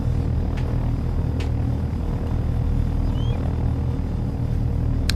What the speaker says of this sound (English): you need to take it very slowly and skillfully to land